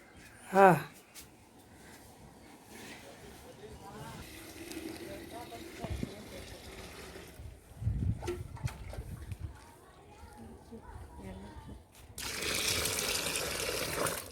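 Water is poured over freshly picked leafy greens to rinse out sand and dust in a village kitchen, with faint splashes early on and a louder, steady gush in the final seconds.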